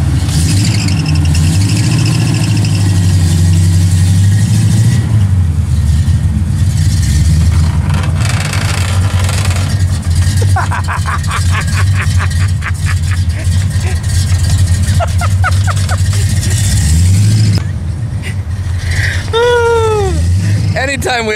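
The AMC 304 V8 in a 1979 AMC AMX with new headers runs on a dyno, a loud steady engine drone with squealing whines late on, while people talk over it.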